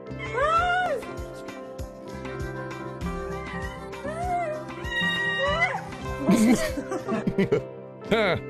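A cat meows several times in rising and falling cries, mixed with sounds like a person imitating the meows, plus background music and some laughter.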